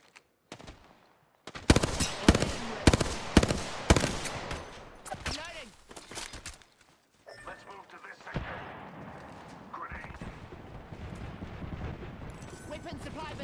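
Video game gunfire: a burst of sharp, loud shots fired in quick rhythmic succession, followed by scattered further shots and a steady, noisy game-ambience rumble with some voice activity.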